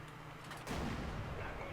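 Tank cannon shots in World of Tanks, fired downward at a heavy tank, with a sudden loud boom about two-thirds of the way in and a sustained rumbling tail afterward.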